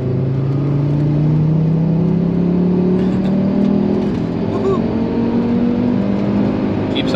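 A Volvo V70 T5 on the Nürburgring, its engine droning steadily as it pulls hard, pitch rising slowly through a long gear, heard from inside the car with no talk.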